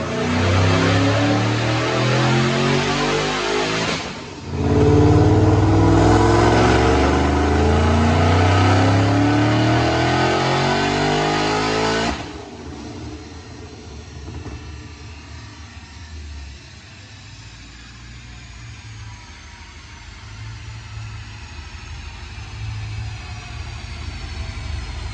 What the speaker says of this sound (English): So I'm gonna make a dyno pull.